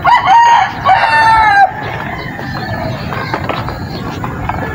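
A backyard rooster crows loudly and close for about a second and a half among farm chickens, followed by softer clucking and general yard noise.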